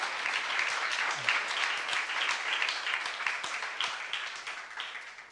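A church congregation at a youth worship service breaks into steady, dense applause, many hands clapping together at an even level throughout, with no voices on top.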